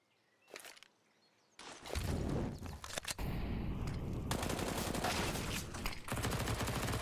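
MP9 submachine gun fire in the shooter game Perfect World during a league match, with rapid rattling bursts that start after a quiet opening and stay loud, dense and near.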